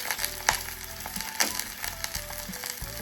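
Onions, garlic and ginger sizzle steadily in a hot pan up close, with scattered clicks and taps of a utensil moving them around.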